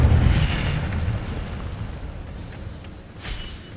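Fiery whoosh of the Incendio fire spell in Hogwarts Legacy: a loud rumbling burst at the start that slowly fades, then a brief flare near the end, with no talking.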